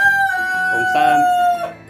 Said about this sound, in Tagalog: Yan sila mga chicken